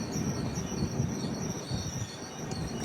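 Wheels of a superfast express shriek in thin, high wavering tones as the train brakes to a halt at a signal, over a heavy continuous rumble from within the carriage.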